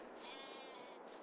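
Sheep bleating in a farming video game on the GreenRiver 22 map, several overlapping bleats close by, steady and fairly quiet across the brief moment with no talk over them.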